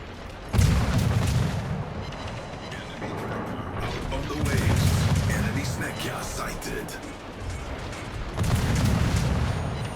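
Ship guns firing in the World of Warships naval video game: heavy booming salvos about every few seconds, with rumbling tails under a voice talking throughout.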